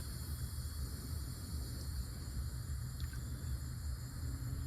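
A Smorobot Tank C1 robot pool cleaner runs underwater in a pool at night, giving off a steady, continuous low rumble and hum with a faint hiss, unbroken and even throughout.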